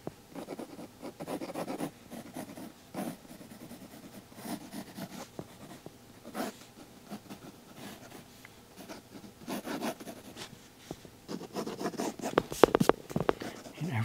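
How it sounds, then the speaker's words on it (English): A pencil sketches a portrait on paper with soft, fairly close scratchy strokes in irregular bursts, quiet overall and growing busier toward the end. "pencil sketches, pencil portraits and drawings"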